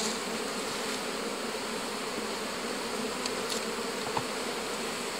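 Bees buzz around a beehive with honey stored in the super, a steady, close, continuous drone of many insects with occasional individual bees passing nearby, and no talking.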